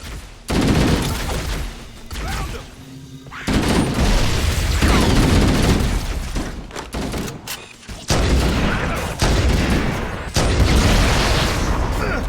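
Rapid bursts of weapon fire from the Halo Combat Evolved video game, loud and near, run in dense volleys across the clip with brief lulls between them.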